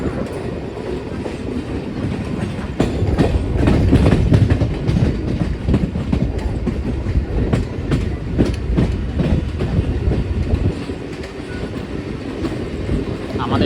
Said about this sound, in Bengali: ট্রেনটা স্পিড নিয়ে নিয়েছে